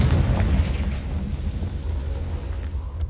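A Confringo fire spell in the Hogwarts Legacy video game bursts in a loud booming explosion at the start, followed by a rumbling decay and low crackle that fades over a few seconds, with no voices.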